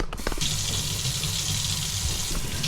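Tap water runs steadily into a sink while something is washed beneath it, a close, continuous gushing hiss after a brief clatter at the start.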